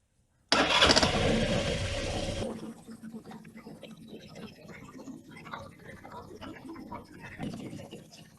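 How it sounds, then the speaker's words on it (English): A Buddy Kick 125 scooter cranks loudly for about two seconds, then catches and settles into a quieter, slightly uneven idle that continues alone. "If I start the scooter,"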